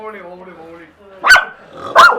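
A family's house dog, kept as security, lets out two sharp, loud barks about a second apart, just after a person finishes speaking.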